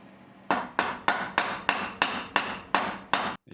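A steel mallet strikes a metal bar nine times in a steady rhythm, each hit sharp and close with a brief ringing decay.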